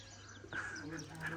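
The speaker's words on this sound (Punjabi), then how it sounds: "ਇੱਕ ਉਹ ਵੱਡਾ ਕਬੂਤਰ ਆ ਗਿਆ।" A large pigeon at a rooftop pigeon-flying loft gives a short low coo with a few chirpy notes, faint and close, with murmured voices in the background.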